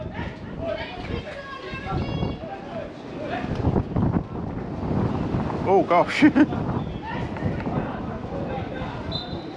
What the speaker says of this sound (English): Big gust of wind there.